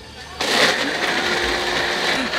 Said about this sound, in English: Maybe we shouldn't be standing beside the blender.